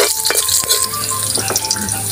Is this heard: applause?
no